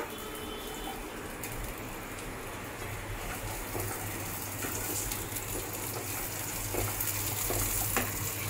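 Onion and capsicum sautéing in a little oil in a pan, a steady soft sizzle with faint scrapes and stirring, fairly quiet and continuous, no voices.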